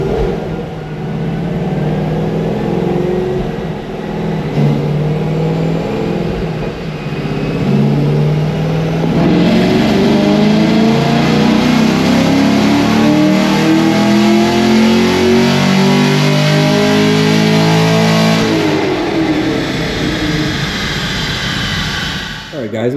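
A 2024 Camaro SS fitted with long tube headers and a Roto-fab intake, freshly tuned, revs loudly and close for the whole stretch, engine pitch sweeping up and down through repeated blips while a voice talks faintly underneath.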